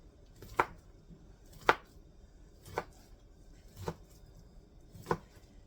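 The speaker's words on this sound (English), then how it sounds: "We're going to chop it this way small." Food is chopped small on a cutting board with a knife, giving five sharp, evenly spaced chops about a second apart in a quiet room.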